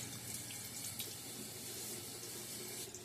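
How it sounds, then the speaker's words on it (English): Tap water runs steadily onto a shaving brush at a bathroom sink, a soft continuous splashing hiss heard close but quiet. "Refresh the water on it there."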